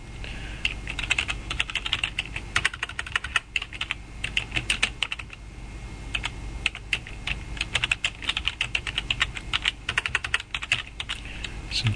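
Text being added on a computer keyboard, with dense, fast, steady clicking of keys close up that runs for the whole stretch over a low hum.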